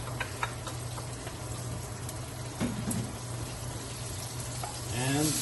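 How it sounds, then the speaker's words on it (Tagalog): Garlic, onion and ginger sauté in hot cooking oil for a meatless Holy Week dish, giving a steady close sizzle with a low hum beneath and a brief voice near the end. "kailangan natin ng ating mantika para gisa natin yung ating bawang ng sibuyas at saka luya"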